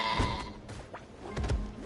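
A goat in a video game gives a few short, wavering bleats close by over a quiet background.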